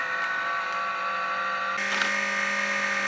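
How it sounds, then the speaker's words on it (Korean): A faulty blower fan in a Toshiba Satellite U50D-A laptop whirs steadily with a harsh, tonal buzz that shifts partway through, sounding strained and rattly, with no voices. "블로우펜에서 이런 소리가 나고 있어요"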